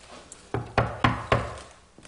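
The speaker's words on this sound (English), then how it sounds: "It is my secret knock." Rhythmic secret knock on a door in a late-night comedy sketch set in Versailles: four sharp, close raps in a quick pattern, with a fainter tap after, no voices.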